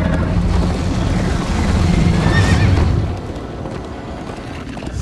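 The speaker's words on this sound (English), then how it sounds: "First time on a horse here." A horse whinnies loudly over a rumbling, galloping game soundtrack in Minecraft: Story Mode, the neigh rising and wavering near the middle before the noise eases off.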